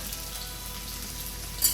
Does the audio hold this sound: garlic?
yes